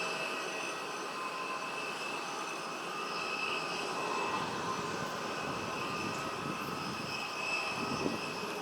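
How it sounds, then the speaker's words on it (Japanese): A Senegalese government Airbus A320neo takes off from runway 16L at Haneda Airport, a steady, fairly distant jet engine roar with a high whine that holds even throughout, and no talk. "飛行機は C 滑走路、ランウェイ16レフトから離陸です"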